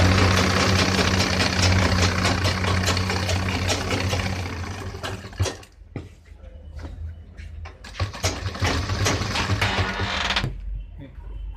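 A sewing machine stitching the seat seam of a pant, a loud continuous mechanical whir and rattle that stops, pauses briefly, then restarts in bursts, heard close up with no talk.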